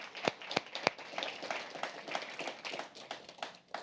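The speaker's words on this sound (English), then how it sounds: "round of applause to you for everything you do." Scattered hand claps from a small conference audience at a Google digital keynote, a few sharp near claps standing out over a thin, patchy round of applause.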